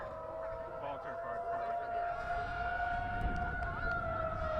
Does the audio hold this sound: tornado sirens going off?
yes